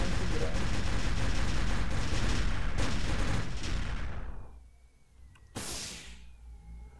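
Dense, continuous gunfire from shooting at robots in the Machinecraft video game, loud and unbroken for several seconds, then cutting out, with one more sharp burst near the end.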